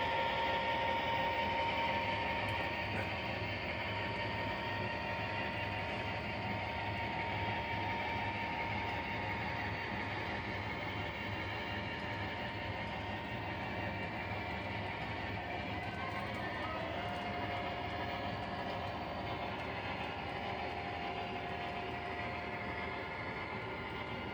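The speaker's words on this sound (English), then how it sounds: "This is how the trains come out from storage into the main line." Steady low rumble of video-game trains rolling from storage onto the main line, with continuous mechanical hum and faint rhythmic clatter throughout.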